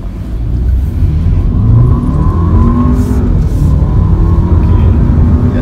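A Volkswagen Passat engine revs hard and loud through a gear change, its steady roar dipping briefly and climbing again, close and continuous.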